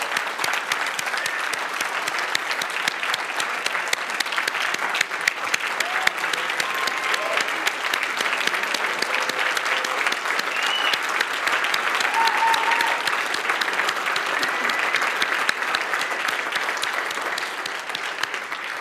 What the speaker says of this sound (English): Would you guys give Eunice a big round of applause?